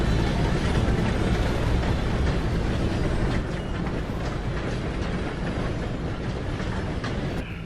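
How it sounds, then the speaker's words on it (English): A steam train in the Red Dead Redemption 2 video game rumbles past in a loud, continuous roar with a steady mechanical clatter, filling the scene without pause. "Gotta beat that train, Morgan!"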